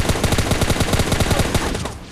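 Rapid automatic gunfire in the shooter game PUBG Lite, a dense, loud burst of closely spaced shots that runs nearly the whole stretch before cutting off, with no talk.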